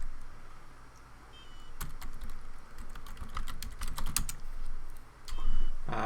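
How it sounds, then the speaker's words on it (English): Someone types on a computer keyboard during a live TinyWhoop drone racing event, with bursts of quick clicking keystrokes, sparse at first and then denser, up close. "I'm just typing on Discord basically to try and ascertain where everybody is"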